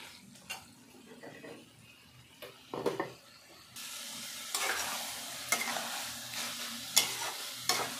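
Taro pieces are stirred into mustard paste in a pan, with a faint sizzle and intermittent scraping strokes that grow louder and denser in the second half, with no talk.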